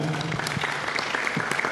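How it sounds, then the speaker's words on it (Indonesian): A crowd applauds steadily, a dense wash of clapping hands that carries on without pause. "tepuk tangan untuk Mas Bambang."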